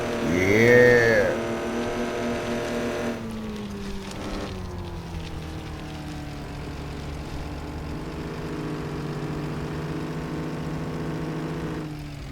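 Farm truck engine driving, a steady low drone with a rising tone early on, then a constant, even hum that continues for about twelve seconds with no talking.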